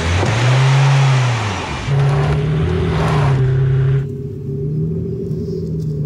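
VW, Ford and Mercedes vans rev their engines hard while straining in a tug-of-war, the loud low rumble rising and falling as the revs surge and ease, then settling to a lower, steadier drone.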